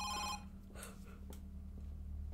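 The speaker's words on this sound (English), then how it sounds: "Now the phone's ringing. It's pretty loud, this is not in this room." In the video game Home Sweet Home, a telephone bell rings briefly at the start. It sounds moderately loud, as if from downstairs, and is followed by a low, steady ambient hum.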